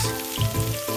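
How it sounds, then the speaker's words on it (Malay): Popcorn chicken frying in hot oil, a steady close sizzle with a low hum underneath, continuous through the whole short moment. "mula-mula kita goreng ayam popcorn tu dulu"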